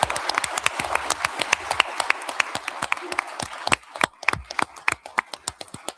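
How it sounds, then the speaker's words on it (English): An audience at an Alabama lieutenant governor candidates' forum claps in a brisk, fairly sparse round, individual hand claps standing out clearly and thinning into scattered, louder close claps toward the end. "let's have a round of applause for all the candidates"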